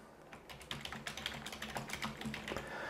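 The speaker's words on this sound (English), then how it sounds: "as I type in the box here" Typing on a computer keyboard into Google Translate, a quiet steady run of close key clicks in a quick irregular rhythm, heard alone without any talking.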